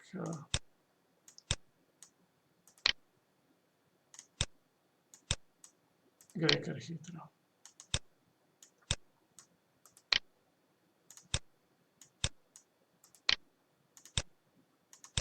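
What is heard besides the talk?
computer mouse clicking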